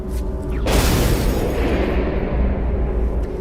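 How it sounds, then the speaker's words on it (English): A nitroglycerin bomb thrown at an imperial carriage goes off as a sudden loud blast, followed by a long, dense rumbling roar of debris and reverberation that fills the remaining seconds. "Alexander's carriage came round that corner, a member of People's Will was standing by and lobbed a grenade right at him"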